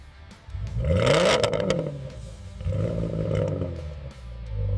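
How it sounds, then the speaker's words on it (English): A supercharged 5.2L V8 in a Ford Mustang Dark Horse revs hard inside the factory, the exhaust swelling into a loud roar, easing, then climbing again close by with some mechanical clatter. "Exhaust note is tuned and measured."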